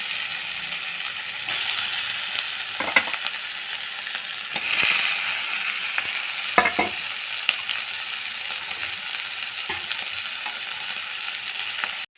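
Tomato and boiled, mashed potato frying in a pan, giving a continuous bright sizzle broken by scraping and clattering stirring strokes, with no talking.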